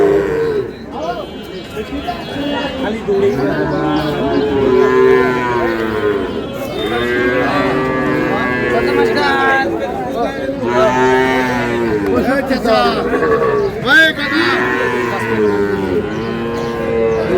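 Shahiwal bull calves and other cattle at a Dhaka livestock market moo repeatedly in long, loud, drawn-out calls. Buyers and sellers haggle in crowd chatter around them.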